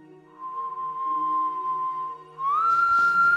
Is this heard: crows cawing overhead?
no